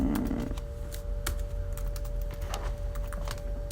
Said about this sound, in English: Me typing in my passcode wrong like 5 times.